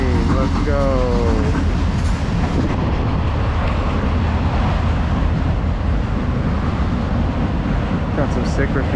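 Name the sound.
passing train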